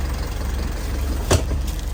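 An Isuzu Elf truck engine idles steadily with a low, even rumble, close and fairly loud, and one brief knock or thump stands out partway through; no one speaks.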